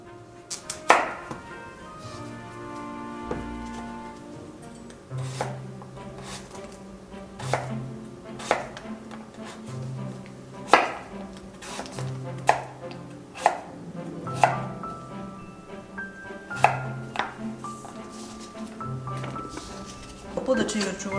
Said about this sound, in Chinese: 把萝卜切片